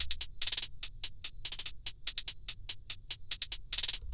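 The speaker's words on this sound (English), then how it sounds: "And then with the other hi-hats, it sounds like this." Crisp, bright hi-hats in a trap beat, layered over a very low, dark hi-hat pattern, ticking in quick irregular bursts and rolls over a faint low rumble, with no voices.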